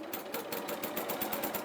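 A domestic sewing machine fitted with a walking foot runs steadily, stitching a 1.5 cm seam around a pinafore dress with a fast, even mechanical rhythm close by and no talk.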